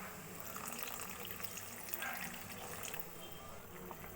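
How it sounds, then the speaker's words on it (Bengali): Water is poured into a pot of potatoes for boiling, making a faint, steady splashing trickle that lasts throughout. "এবার পরিমাণ মতো জল দিয়ে দেব।"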